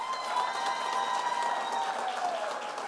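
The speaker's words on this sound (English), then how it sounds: "you can give yourselves another round of applause" Audience applause at a city's State of the City address in Whitehall, a dense, even wash of clapping from a large crowd indoors, sustained without pause.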